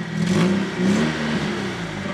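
A Fiat Panda 4x4 engine idles and revs close up, its mid-pitched hum rising in two brief surges before settling back, with no talk over it.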